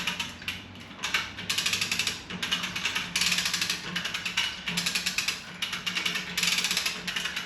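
A ratchet is cranked on a two-post car lift while its lock structure is set on the post. The clicking comes in quick, steady bursts with brief pauses between strokes, close and fairly loud, and no one speaks.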